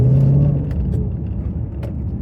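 Dodge Challenger with a Barton shifter pulling away through the gears, a loud low engine rumble from inside the car with a rising tone early on, then steady droning under faint clicks.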